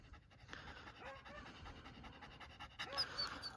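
A dog pants steadily up close with quick rhythmic breaths and a faint whimper near the end, heard quietly at a training session.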